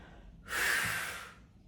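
A single long, forceful exhale through the nose and mouth during a pilates twist, close and breathy, lasting about a second before fading.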